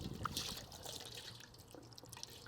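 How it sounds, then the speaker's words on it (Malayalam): Water being scooped with both hands for ablution gives soft, faint trickles and drips close by, a gentle splashing with no talking. "2 കൈ കൊണ്ട് വെള്ളം എടുക്കുകയും"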